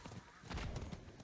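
Hooves clip-clopping as a horse arrives in Diablo IV, with a brief whinny, fairly quiet and game-like over a low ambient bed.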